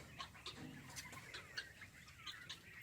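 Soft clucking and chirping from several quail in a pen, repeated short calls at a moderate distance, with no talking.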